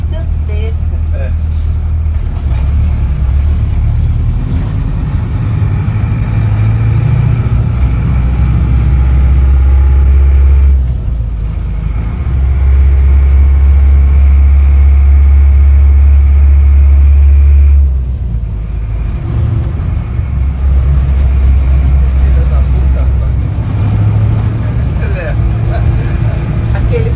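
Police car engine rumbling deep and loud at close range in a large town square, a heavy low drone that swells and eases in waves while people talk over it.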